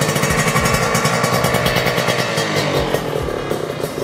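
A modified Kawasaki Ninja R motorcycle, converted to a Victor S, idles up close with a steady, busy mechanical clatter and throbbing rhythm filling the whole clip.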